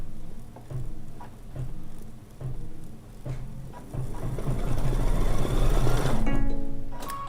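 A sewing machine stitching a tack-down stitch on a quilt, with soft rhythmic bursts that pause between runs, then a faster continuous stretch growing louder toward the end.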